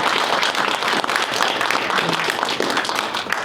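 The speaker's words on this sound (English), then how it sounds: "I'd like a round of applause for all of them." Audience applause at a library legislative breakfast, honoring the library trustees: dense, steady clapping from a roomful of people, sustained at an even level throughout without a break.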